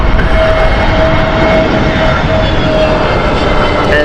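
Aer Lingus airliner jet engines roar loud and close as the plane passes at Heathrow Airport, a dense, continuous rumble with a high whining tone running throughout.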